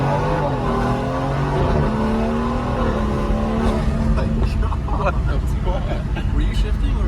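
BMW F30 340i with the B58 engine revving hard with paddle shifts, a loud continuous engine roar with rising and falling harmonics and quick shift breaks, heard from close by.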